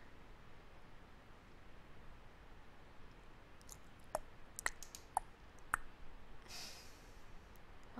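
A computer mouse clicking a few times, sharp and faint, in quick scattered bursts over low background hiss, alone without talk.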